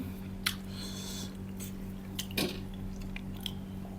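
Close chewing and biting while eating spicy Thai glass noodle soup with chicken bones, soft wet squishes and a few sharp crunchy clicks scattered over a steady low background hum, no talking.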